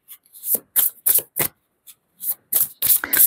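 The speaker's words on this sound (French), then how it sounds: "Je vais tirer une carte là-dessus." A deck of cards shuffled by hand in several quick riffling bursts, close and crisp, with short pauses between them, before a card is drawn.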